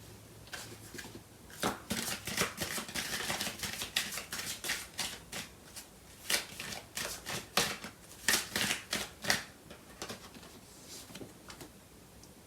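Tarot cards shuffled by hand in a steady run of crisp riffling flicks and slaps, close and fairly loud, with brief pauses between bursts and no talking.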